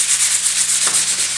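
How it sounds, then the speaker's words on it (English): Hand scuffing the surface of a computer desk case to knock down burrs, a light steady rub with almost no pressure; soft rhythmic scratchy strokes repeat close up and alone throughout. "what I'm doing now is I'm just going to go ahead and scuff the surface a bit"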